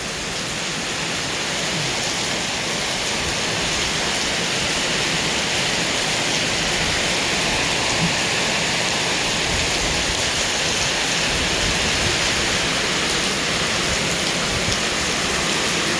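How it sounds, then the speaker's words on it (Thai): Steady, dense rain pours down with a constant broadband hiss, wind blowing through it, over dried-out rice paddies in the rainy season; loud and unbroken throughout with no voices. "พี่น้องทั้งฝนทั้งลมนะ"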